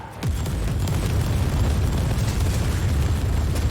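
Explosions in Warhammer 40,000: Inquisitor - Prophecy open with a sharp blast, then settle into a loud, continuous roar of booms and rumbling debris with no break.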